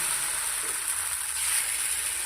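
Mixed flour roti batter sizzles steadily on a hot griddle, a bright continuous frying hiss that stays even throughout, close and fairly loud with no talking.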